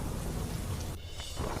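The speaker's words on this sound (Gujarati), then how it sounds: "સુરેન્દ્રનગરના માલવણ ધ્રાંગધ્રા હાઈવે પર ખાબક્યો ધોધમાર વરસાદ" Heavy rain pours down on the Malvan–Dhrangadhra highway near Surendranagar, a dense steady wash of noise with low rumbling underneath, briefly thinning for a moment before the downpour resumes.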